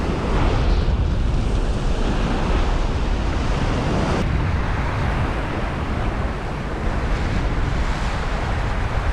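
Sea waves break on rocks along a UK shoreline, a loud, continuous roaring surge close by, with heavy wind buffeting throughout.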